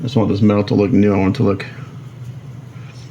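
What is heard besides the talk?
None of the usual background noises is heard.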